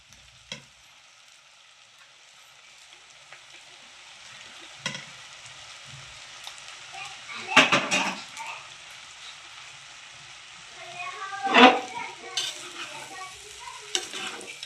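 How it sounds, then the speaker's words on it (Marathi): Basmati rice is tipped into a pan of cooking onions and tomatoes for egg pulao, producing soft sizzling and scraping stirring sounds with a couple of louder rustling bursts, while a voice speaks intermittently. "आणि आता आपण टाकूया बासमती राईस घेतलेली आहे।"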